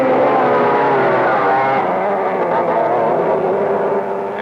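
A loud, steady engine drone with a buzzing, high-revving tone, holding near constant pitch, from a circa-1961 McCulloch go-kart engine running close by.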